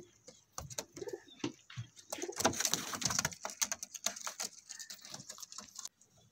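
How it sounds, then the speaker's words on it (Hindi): High flyer pigeons coo softly close by, with fluttering wing flaps and scuffling movement mixed in, a busy bursty loft sound at fairly low volume. "हाई फ्लायर कबूतर हैं ये भाई"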